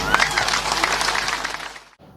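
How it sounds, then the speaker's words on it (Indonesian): Crowd applause at an Indonesian presidential campaign event on the first day of the 2024 campaign, a dense burst of clapping that holds steady for about two seconds and then cuts off abruptly. "Tepuk tangan."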